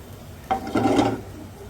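Cooked chickpeas get stirred into a masala in a pot over low heat, a brief, soft scrape and wet rub of a spoon lasting under a second amid quiet.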